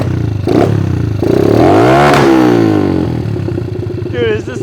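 A repaired pit bike engine runs close by, revving up and dropping back with a rising and falling whine and some mechanical clatter, with a voice talking over it.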